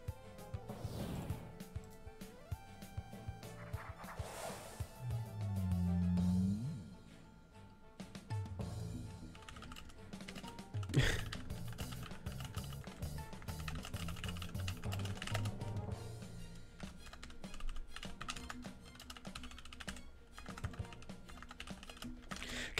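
Computer keyboard typing during a Loomian Legacy PvP session, a steady run of fairly close clicks and keystrokes with a brief louder burst partway through, no talking over it.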